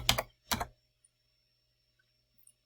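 Fingers type on a computer keyboard in two quick bursts of keystrokes, close and crisp, followed by near silence.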